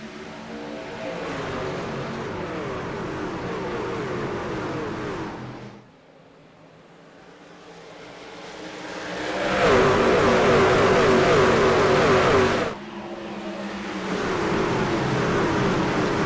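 Race truck engines in an online racing league truck series event roar loudly into turn 1 after the green flag, a dense, sustained pack of revving motors that dips briefly, then swells into a louder, higher-pitched surge.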